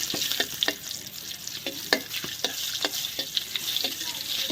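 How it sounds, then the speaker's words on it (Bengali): Four dried red chillies and whole cumin seeds sizzling in hot oil, a bright continuous frying hiss broken by frequent sharp pops and crackles, close and fairly loud, no voices. "শুকনো লঙ্কা ফোড়নে দিয়ে দিলাম চারটা আর গোটা জিরে মাংসের জন্য"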